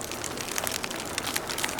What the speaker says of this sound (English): I can hear the rain falling on the leaves